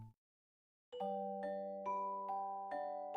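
A doorbell chimes through a sequence of several bright, ringing tones that overlap and sustain, heard alone after a short pause.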